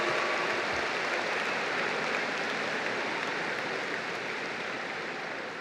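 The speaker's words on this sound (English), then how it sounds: "Round of applause for the class of" A graduating class of 2018 gets steady, dense applause from a ceremony crowd, a broad even wash of clapping that holds for several seconds and tapers slightly at the end, with no talking over it.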